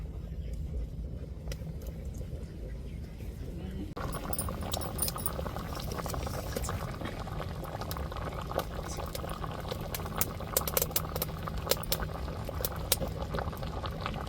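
A pot of koduva fish curry boils steadily with dense, continuous bubbling that grows louder and busier partway through, with faint metallic clinks.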